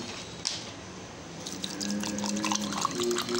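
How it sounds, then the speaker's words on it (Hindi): Cold water poured into a sattu sharbat, a soft steady liquid splash and trickle with a few faint clinks, gaining volume partway through as the glass fills. "अब मैं इसके अंदर ठंडा पानी मिक्स कर रही हूँ"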